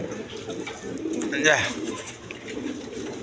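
A pair of Kaldom pigeons coos softly at close range, a brief rolling coo peaking midway over a background murmur of farm noise.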